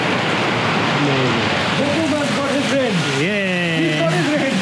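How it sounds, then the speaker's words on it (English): Steady rain falling in Kerala, a dense constant hiss close by, with a voice-like tonal sound drifting over it in the middle. "Yeah, it's finally raining here in Kerala."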